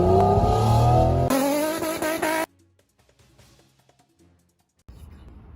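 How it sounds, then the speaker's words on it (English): A turbocharged car engine revs hard and loud, a dense sustained roar that rises in pitch, then cuts off into near silence with faint scattered sounds before the noise returns at the end. "Listen to that turbo."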